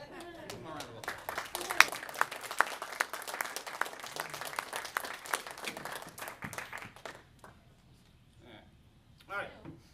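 An audience applauds a magic trick volunteer with steady clapping at a magic show, the clapping fading out after about seven seconds, followed by a few faint scattered sounds near the end.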